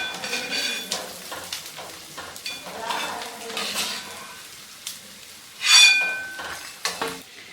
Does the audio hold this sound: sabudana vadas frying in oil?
yes